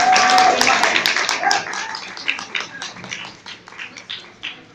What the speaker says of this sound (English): we get a quick round of applause for our adult winners